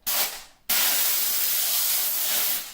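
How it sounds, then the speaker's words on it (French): A Vapodil steam cleaner spraying steam into a sneaker to deodorize it: a brief hiss, a short pause, then a long steady loud blast of spraying steam. "en envoyant la vapeur"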